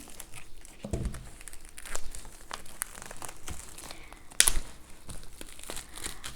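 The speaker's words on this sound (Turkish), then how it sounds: "Yine önce zarfı açalım isterseniz." Paper crinkles and tears softly up close as an envelope from a book subscription box is opened, with scattered rustles and one sharp crisp rip midway.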